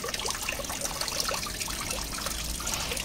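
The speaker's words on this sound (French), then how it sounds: "le petit bassin en eau qui part très bien." Water trickles and splashes continuously in a small garden pond, a steady close babbling flow with a low rumble beneath it, holding even in level throughout.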